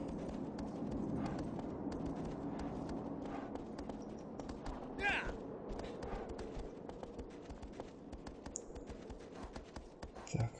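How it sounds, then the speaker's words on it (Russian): Horse galloping across open ground in Shadow of the Colossus, a steady rapid clip-clop of hooves running continuously at moderate volume under a rushing ambient bed, with a few louder thuds near the end. "Лошадь, скачи."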